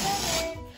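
Air escaping from a deflating balloon in a home science demonstration, a short sharp hiss that fades within a second, heard alone.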